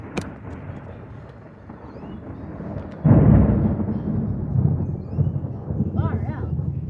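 During a severe storm, a lightning strike close by unleashes a sudden, very loud thunder crack that rolls into a sustained heavy rumble. Children and an adult talk throughout.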